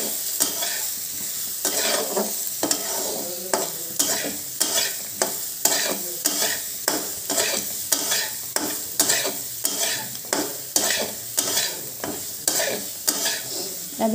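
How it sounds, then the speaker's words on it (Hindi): Grated carrot is stirred into basanti pulao frying in a pan: a steady run of rhythmic spatula scrapes and clinks over a continuous close sizzle, with no talking. "जो गाजर को ग्रेट करके रखे थे उसको इसमें डाल देंगे, और हल्का सा इसको भी चला लेंगे"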